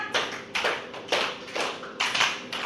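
Hand claps for a counted classroom clapping routine, about six crisp claps in a steady rhythm with slight unevenness, close and moderately loud, alone without voices.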